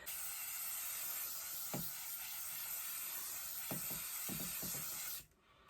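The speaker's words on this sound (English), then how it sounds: "What I'm going to set my face with today is by Kiko, and it's like it's more of a spray" A Kiko setting spray mists a face in one long, steady hiss lasting about five seconds, close and loud, with a few soft taps underneath, then it cuts off abruptly into quiet.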